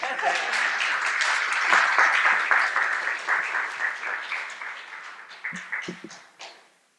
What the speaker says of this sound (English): A clap for Polly